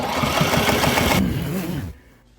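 Sewing machine running steadily as it stitches clear vinyl for a boat enclosure window, a close, continuous mechanical whir that runs for about two seconds and then stops, leaving a quiet room.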